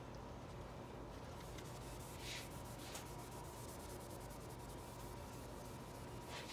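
Faint, soft scrubbing strokes of 3000-grit wet sandpaper rub over a clear-coated speaker enclosure finish, a quiet steady hiss with gentle rhythmic swishes and no speech.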